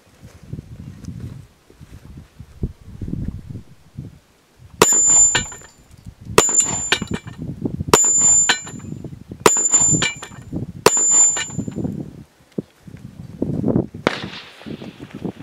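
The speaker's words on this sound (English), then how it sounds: "I'm going to shoot the mini auto popper here from MGM with a 9mm pistol here" Five evenly spaced 9mm pistol shots, each a sharp crack followed by a bright ringing clang as an MGM mini auto-reset steel popper is hit at about 10 yards, with low rustling and handling sounds between them.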